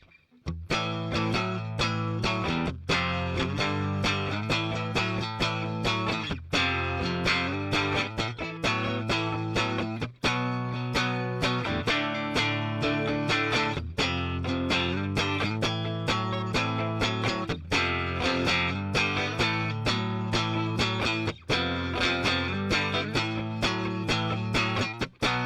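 Electric guitar played through a VOX Cambridge50 modelling amp on an overdriven setting, loud strummed chords and riffs with sharp repeated attacks, continuous for the whole stretch with no talking.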